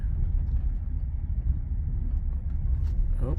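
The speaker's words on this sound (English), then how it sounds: "we're letting it go on this dirt road" A Tesla Cybertruck creeps along a dirt road at about 7 mph under supervised full self-driving, heard from inside as a steady low rumble of tyres and road noise with no voices.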